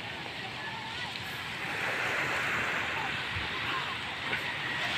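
Sea waves wash onto a beach at seven in the morning as a soft, continuous surf hiss that swells slightly midway, heard at a distance with faint voices and light wind.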